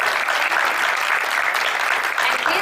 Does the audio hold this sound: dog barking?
no